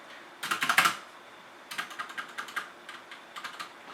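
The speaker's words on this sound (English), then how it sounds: "It's also a bit loud, and the stabilizers are not perfect, as you see or hear right there" Typing on a HyperX Alloy FPS Pro mechanical keyboard with red switches, a fast burst of clacky keystrokes and then a looser run of presses, fairly loud, with a slight stabilizer rattle on the larger keys.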